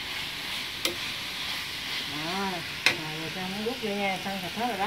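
Pork belly stir-fried with shrimp paste in a pan, a steady close sizzle with a couple of sharp utensil clacks, while a person talks over the cooking.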